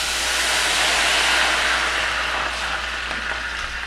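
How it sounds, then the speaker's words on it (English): Wine hits a hot pan to deglaze it for Salisbury steak, giving a loud, close, broad hissing sizzle that stays strong and slowly eases over a few seconds, with no talk. "we're going to deglaze our pan first"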